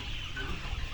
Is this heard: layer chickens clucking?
yes